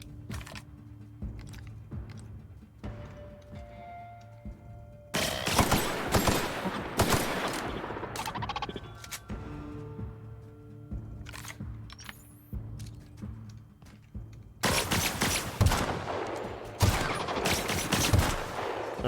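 Gunfire in the video game The Outer Worlds: bursts of rapid shots and fusillades, loud and close, come in clustered waves over game sounds and tones, with several heavy volleys in the second half.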